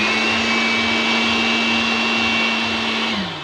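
A Mitsushi 220V 700W electric air blower and vacuum running at full power, a loud, steady close whine and rush of air with a constant tone that drops slightly as it winds down at the end.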